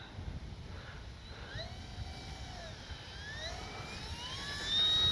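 An RC Corsair model airplane flies overhead at high speed, its engine tone sliding up and down as it makes passes, fairly faint and distant at first and growing louder near the end.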